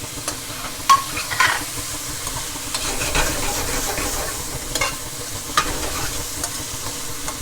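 Garlic frying in a hot pan for Italian onions, peas and prosciutto, a loud, steady sizzle broken by occasional clacks and scrapes of stirring.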